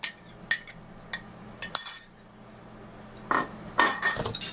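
A utensil clinks against a bowl in sharp, irregular taps while fish fillet is mixed with egg white, salt and meat masala. The quick metallic knocks are close and separated by quiet pauses.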